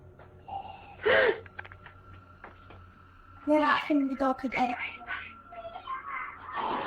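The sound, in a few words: raspy breathing in recorded video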